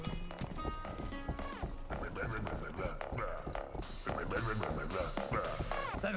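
Horse whinnies and clip-clopping hooves in the medieval video game Rustler, close and loud, mixed with dense game music and sound effects, while someone talks over it.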